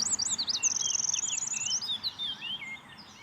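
A tiny songbird of about ten to fifteen grams sings in Paris, a rapid, jerky, explosive string of high notes over steady background hiss and faint insect buzz.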